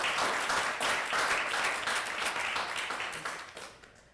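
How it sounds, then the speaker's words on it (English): Audience applause welcoming someone speaker at a Sunday spiritual community gathering, a dense sustained clapping from a room full of people that stays steady and slowly fades toward the end. "Let's give her a round of applause"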